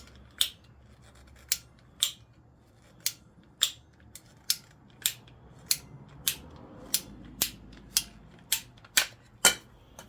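Ratchet cutter clicking down through ABS plastic, a series of about twenty sharp, close snapping clicks at a slow, slightly irregular pace over a quiet background.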